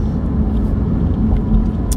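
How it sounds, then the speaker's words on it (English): A car's interior road noise is heard on the drive home, a loud continuous low rumble of engine and tires, steady throughout with no talking. "So, I'm driving my car back home"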